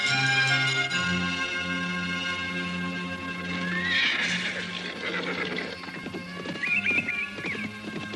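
Horses ridden through a city gate neigh and whinny loudly, with rhythmic clip-clop of hooves beneath, the shrill calls rising twice over the steady hoofbeats.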